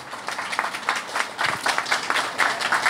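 An audience claps at a volunteer awards event, a moderate, even patter of many hands heard from nearby that keeps going for the whole stretch.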